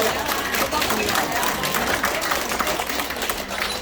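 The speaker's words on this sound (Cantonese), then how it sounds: "多謝夜班守夜嘅各位朋友，唔該俾啲掌聲！" Applause for night-shift volunteers at a neighborhood Christmas party in Sheepshead Bay, Brooklyn: steady crowd clapping with some background voices mixed in, sustained and fairly loud throughout.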